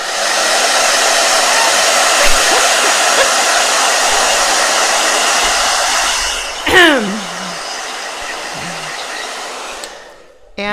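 A blow dryer roars steadily at close range for several seconds with a constant whooshing hum, then winds down and cuts off, followed by brief handling noises.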